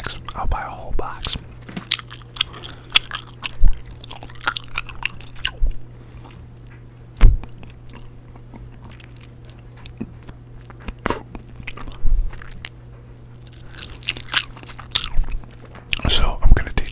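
Gum chewed right against the microphone produces wet, sticky smacks and crunchy bites in an irregular rhythm over a steady low hum, with soft whispering now and then.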